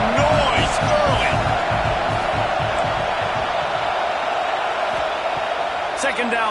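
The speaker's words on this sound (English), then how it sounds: "This crowd bringing the energy and noise early." A loud, steady roar from a large college football stadium crowd at a UGL vs Florida game, sustained throughout, with a few faint whoops and brief sharp sounds rising above the wash of noise.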